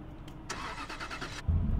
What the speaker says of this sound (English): Start up motor